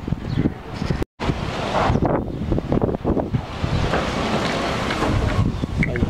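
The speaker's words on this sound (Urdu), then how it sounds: "آج بہت تیز ہوا چل رہی ہے" Strong wind blows outdoors around a potted karonda plant, roaring and buffeting the microphone loudly and almost without a break. The sound cuts out for a moment early on, and the gusts keep surging unevenly after that.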